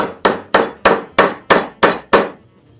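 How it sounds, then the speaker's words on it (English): Eight sharp, evenly spaced hammer blows drive a chisel into wood, each strike loud and close with a quick decay, the steady rhythm stopping abruptly near the end. "all I gotta do here is chisel this down."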